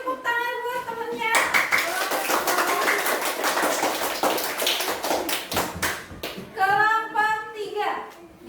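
A class of children claps their hands for a classmate, a dense burst of clapping lasting about five seconds, with children's voices heard before and after.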